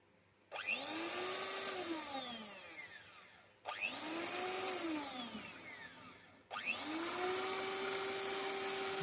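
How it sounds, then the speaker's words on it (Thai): An electric blender mixes coconut milk and sugar in three separate bursts, each a loud close whirring roar that starts abruptly, shifts in pitch as it runs, and then cuts off. "ก็จะปั่นปั่นปั่นให้กะทิกับน้ำตาลเข้ากัน"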